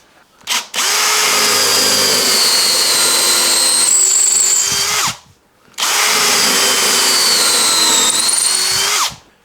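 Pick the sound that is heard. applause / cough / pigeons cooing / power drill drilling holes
power drill drilling holes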